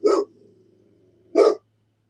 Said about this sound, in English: I'm sorry the dogs are barking.